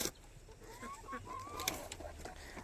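Laying hens cluck softly and intermittently, a few drawn-out rising calls over a steady farmyard background hiss, fairly close.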